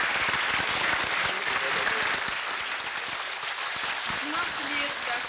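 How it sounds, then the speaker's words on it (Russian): Studio audience applause on a Russian TV game show as contestants leave with their prize, a fairly quiet, sustained patter of clapping with some voice-like tones mixed in. "проводим аплодисментами"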